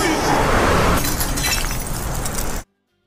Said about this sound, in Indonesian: karena kristal Mija yang terkenal sangat kuat, bisa hancur berkeping-keping seperti itu